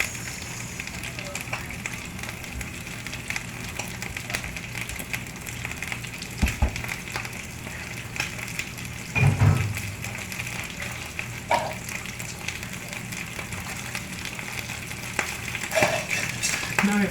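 Food browning in a pot for a Sunday stew of oxtail and butter beans, a steady soft sizzle and crackle with a few louder pops and stirring knocks, close by, no talking.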